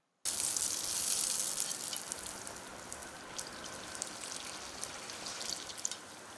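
Karthigai deepa appam, a sweet batter dumpling, fries in hot oil in a pan, giving a steady close crackling sizzle that runs unbroken and fairly loud from start to finish with no talk.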